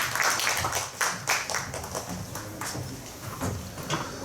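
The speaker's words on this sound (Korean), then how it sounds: "장시간 열과 성의를 다해주신 회장단 후보님들께 뜨거운 박수 부탁드리겠습니다" Audience applause for election candidates at a dental association meeting, a burst of dense hand clapping from a crowd that rises and gradually thins out over several seconds.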